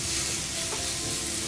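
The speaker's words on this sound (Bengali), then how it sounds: "আমি টাকি মাছগুলো ঢেলে দিব এবং নাড়াচাড়া করব।" Taki fish tumbles into a hot pan with onions and spices and is stirred, giving a short, dense, loud sizzle that fills the moment with no voices.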